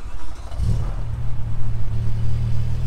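A stock BMW M6 V10 engine cranks and catches, settling into a deep, loud, steady idle rumble close by.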